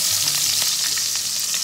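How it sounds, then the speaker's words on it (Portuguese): Beef tongue fries in a pan with a loud, steady, close hiss and crackle of sizzling fat, a continuous bright spatter without any talking. "e agora é só levar aqui na panela"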